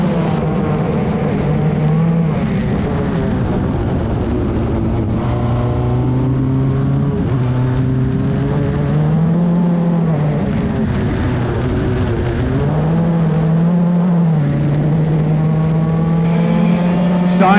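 Single-seater race cars lapping a track, engines droning loud and continuous with rising and falling pitch as they shift and pass, while a commentator talks over the racing throughout.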